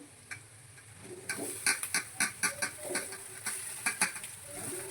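Hot boiled rice is tipped from a cooking pot into a frying pan for fried rice, with a burst of sizzling and a run of quick metallic clinks and scrapes as it lands.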